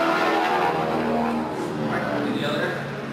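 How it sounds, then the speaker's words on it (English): A propeller airplane flies overhead at the Oshkosh 2018 airshow, a loud, steady engine drone that fills the whole stretch and fades slightly toward the end, with people talking underneath. "I apologize for the airplane noise."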